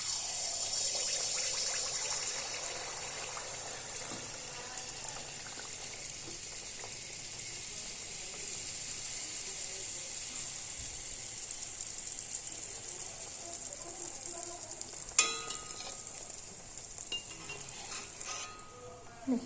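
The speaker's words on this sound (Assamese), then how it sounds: "এয়া কেৰাহী তেল গৰম হৈ আহিছে" Tel pitha, Assamese rice cakes, fry in hot oil in a wok, giving a steady, close bright sizzle throughout, with a brief clink of a utensil against the pan partway through.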